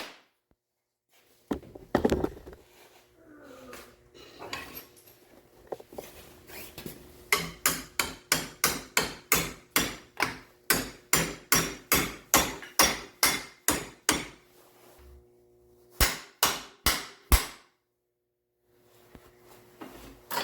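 Steady hammer strikes on metal while fitting engine mounts for welding, a long run of evenly spaced loud blows after a few scattered ones, then a short pause and a final quick flurry.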